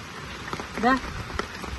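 Rain falls steadily outdoors on an estate while chicken biryani boils in a pot. The soft, constant patter runs throughout, with a brief voice rising over it midway.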